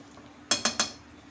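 A masher knocking against a pan while beef brain is mixed, three quick metallic clinks in a row, close and alone.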